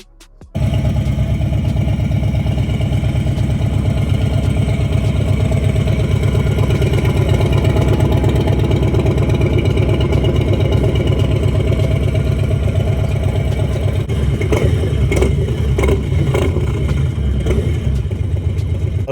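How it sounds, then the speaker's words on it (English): A Harley Davidson Lowrider S with a Sawicki exhaust idles loudly and close by, its deep, lumpy rumble steady for a long stretch, with a few quick throttle blips toward the end. "Look at a Sawicki exhaust on the Harley Davidson Lowrider."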